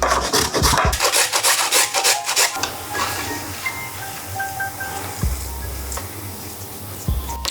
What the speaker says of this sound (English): we're just going to literally be grating the entirety of the carrot into a little plate